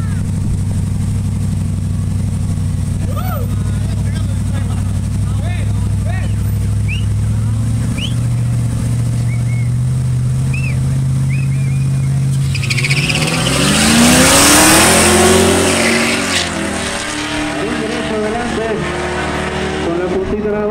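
Eight-cylinder Index class drag race cars in a semifinal run, engines droning steadily then surging into a loud rising roar as they launch and pull away, with a commentator talking over the racket.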